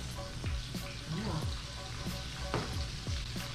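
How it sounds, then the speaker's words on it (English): Red beans or sausage sizzle steadily in a hot pan while cooking Louisiana red beans and rice, with a few soft scrapes and clicks of stirring at irregular moments. "Love that sizzle."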